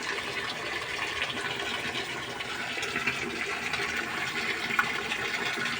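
A water aerator setup runs with water flowing in, giving a steady, even rush of bubbling and splashing that holds at a constant moderate level throughout, with no voices.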